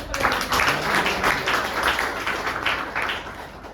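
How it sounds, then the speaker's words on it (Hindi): Steady audience clapping at a Hindi-language business seminar, applause given for a senior member, a continuous moderate wash of many hands with no voices over it. "उनके लिए भी जोरदार तालियां"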